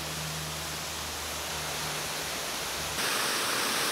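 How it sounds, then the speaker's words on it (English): A waterfall in the Blue Ridge Mountains rushes in a steady, dense broadband roar, loud and continuous throughout, with a low hum in the first part that cuts out abruptly. "I'm not sure what it is about a waterfall that we all fall in love with"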